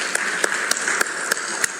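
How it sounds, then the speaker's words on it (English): Audience applause at an international mediation conference in Vizag, a steady wash of clapping with a few sharper claps standing out at regular beats, fairly loud and with no voices over it. "Can you have a big round of applause, please?"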